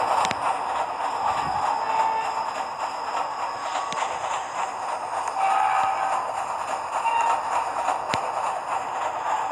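A train in the Roblox Jailbreak video game rolls along with a steady, loud rumbling drone, broken by light clattering and rattling, with no voices.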